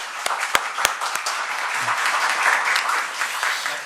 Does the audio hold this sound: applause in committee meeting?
yes